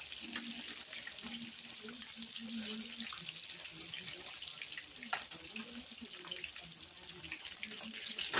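A spatula is rinsed under a running tap, giving a steady, soft splash of water with a faint frying sizzle in the background and occasional clatters.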